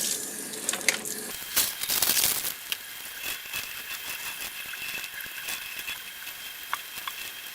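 Ice-dyed tie-dye fabric is rinsed under a running tap, giving a steady hiss of flowing water with splashing, patter and occasional wet crinkles of cloth being handled, fairly quiet and close.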